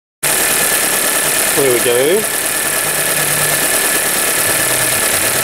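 A VW Polo engine fitted with a new number two ignition coil and fresh spark plugs runs at a steady, close idle with an even mechanical hum, after a short voice near the start.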